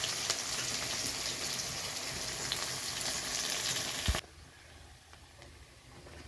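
Onions sizzle loudly in hot oil with garam masala, garlic and ginger paste, a dense, close frying hiss that suddenly drops to a much quieter simmer partway through.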